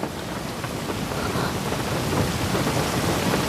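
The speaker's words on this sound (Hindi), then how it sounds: "लेकिन बाहर बारिश हो रही है।" Heavy rain pours steadily outdoors with low rumbling thunder rolling underneath, a dense continuous wash of sound with no pauses.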